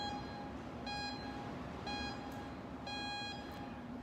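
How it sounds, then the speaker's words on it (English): A gym countdown clock sounds four evenly spaced short electronic beeps about a second apart, clear tones over a faint background hum with no talking. "This is how this clock sounds when it counts down."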